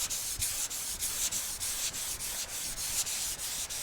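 An auto body panel under dent repair is sanded by hand with a small sanding block and 320-grit paper, giving even back-and-forth rasping strokes at about two per second that are close and moderately loud with no talk.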